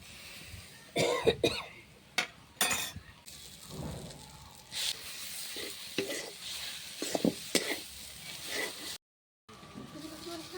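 Green peas dry-frying in a pan with salt, turmeric and chili paste, heard as soft scraping, stirring and light sizzling, broken by a few sharp coughs and a moment of silence near the end.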